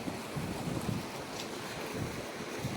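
Water gushing from a tubewell pump into a wheat field, a steady broad rushing and splashing wash that stays loud and continuous, with no talk.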